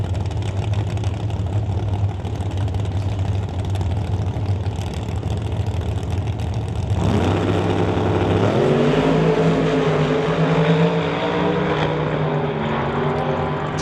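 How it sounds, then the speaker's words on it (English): Big block Chevy drag race cars, a 496 and a 632 cubic inch, roar loudly and steadily down the strip at an NHRA Summit ET Series race, one rising engine tone climbing in pitch partway through. "Brody under the hood, 496 cubic inch big block Chevy"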